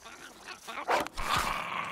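A short-eared dog attacks in the survival game Survival: Fountain of Youth, giving a few close, harsh snarling barks and growls in quick bursts, with some voice-like sound mixed in.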